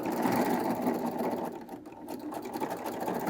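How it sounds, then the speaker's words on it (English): A serger sewing machine runs steadily as it stitches over a thick seam, giving a continuous close whirring buzz that dips briefly midway, with no voices. "Now I'm going to stitch down about 6 inches or so"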